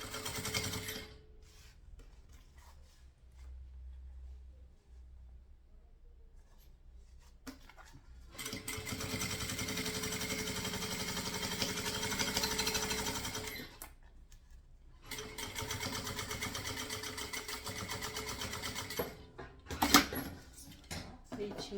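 A sewing machine stitches a synthetic leather bag in two long runs of steady, fast mechanical whirring, close and moderately loud, separated by a quieter stretch with faint handling noises.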